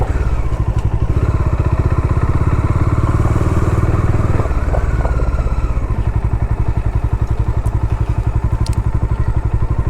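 A motorcycle ridden up to a viewpoint and parked, its engine thumping in a loud, steady rhythm close by, briefly shifting pitch as it slows before settling into a rough, pulsing idle.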